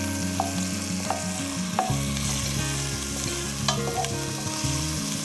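Onions stirred and fried in a skillet on a gas stove, a steady close sizzle broken by the repeated scrape and clack of a utensil against the pan, with no talking.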